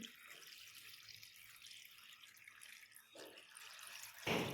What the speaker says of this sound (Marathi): यामध्ये मी आता पाणी ओतत आहे